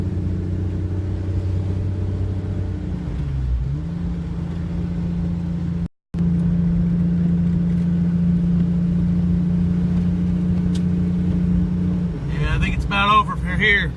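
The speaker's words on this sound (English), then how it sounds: "I've got to get back to driving" A car driving while chasing storms, its low steady road and engine rumble running throughout with a brief dropout, and a voice talking near the end.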